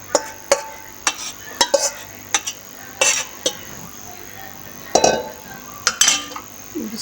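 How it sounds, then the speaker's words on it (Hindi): Milk-soaked semolina being tipped into a hot pan for sooji halwa, heard as a series of sharp spattering crackles and metal utensil clinks against the pan in irregular bursts, close and fairly loud, over a faint background sizzle. "सूजी जब डालेंगे तो छींटे उड़ेगी"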